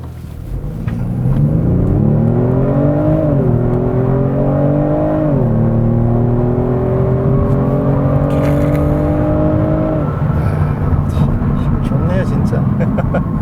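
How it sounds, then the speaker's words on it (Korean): A 2020 Kia Stinger 3.3T in sport mode under hard acceleration on a highway, engine note rising steadily through gears with distinct pitch drops at each shift, loud and close from inside the cabin. "스포츠 모드에 두고 급가속을 한번 해보도록 하겠습니다."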